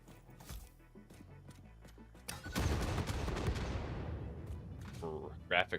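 Video game explosions burst loudly after a stretch of sparse clicks and thuds, a long rumbling blast that slowly fades, with a couple of sharper bangs near the end and a voice speaking over it.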